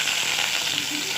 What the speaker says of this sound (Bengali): এখন একটা কড়াইয়ে তেল দিয়ে পেঁয়াজ অল্প দিয়ে দেব